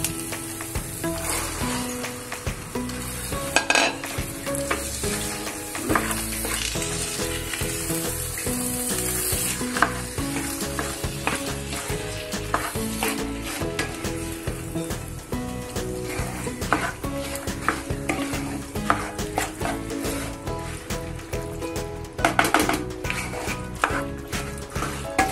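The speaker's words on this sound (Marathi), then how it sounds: "आता आपण हे चणे त्याच्यामध्ये घालूया" Chickpeas fry in hot spiced oil with a dense, constant sizzle, while a spoon stirs and scrapes against the pan in irregular clatters throughout.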